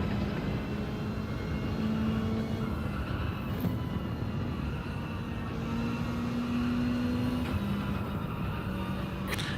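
Mazda Atenza Gr.4 race car at Fuji Speedway in Gran Turismo 7, its engine droning steadily throughout with rising tonal whines as revs climb and fall, a continuous near and loud note with no talk over it.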